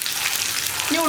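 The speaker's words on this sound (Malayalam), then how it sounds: "ഈ ഉള്ളി ഒന്ന് ബ്രൗൺ കളറായി വരുന്നത് വരെ നമുക്കൊന്ന് ഇളക്കി കൊടുക്കാം." Onions frying with mustard seeds and fenugreek for a bottle gourd moru curry, stirred until browning: a brief burst of dense, close sizzling hiss, with a faint voice-like tone right at the end.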